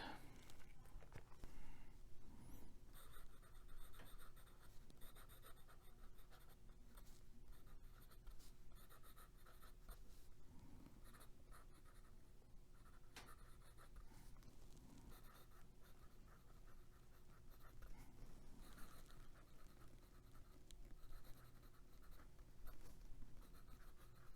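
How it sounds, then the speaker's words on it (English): TWSBI Classic fountain pen with a medium nib and Monteverde Horizon Blue ink writing on a Rhodia 80 gsm lined pad, giving a continuous soft scratching of nib on paper, close and steady, with faint background hum. "Let's do some writing on a Rhodia 80 GSM lined pad"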